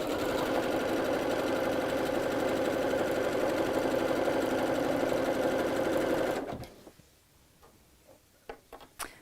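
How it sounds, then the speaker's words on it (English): A sewing machine runs a zigzag stitch along a fabric edge steadily for about six seconds with a fast mechanical whir, then stops, leaving a few faint clicks and taps. "go to a zigzag stitch on your sewing machine"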